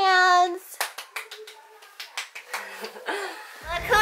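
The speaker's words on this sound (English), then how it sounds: "Clap your hands." Small family group clapping hands after a children's song, a handful of sharp separate claps spread over a few seconds, mixed with a voice and light laughter.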